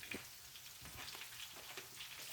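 Sausage and hash browns frying in a pan for a breakfast casserole, giving a steady, close crackling sizzle with faint stirring scrapes.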